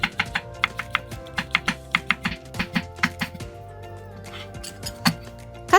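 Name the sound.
knife thinly slicing shiitake mushroom caps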